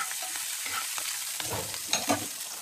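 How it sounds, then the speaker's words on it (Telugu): Cumin, mustard seeds and chopped green chillies stir-frying in oil, a quiet sizzle with crackles and seeds popping, and a few scrapes of a stirring spoon near the end. "జీలకర్ర, కొంచెం ఆవాలు, మనం కట్ చేసి పెట్టుకున్న పచ్చిమిరపకాయలు వేసి బాగా కలుపుకోవాలి"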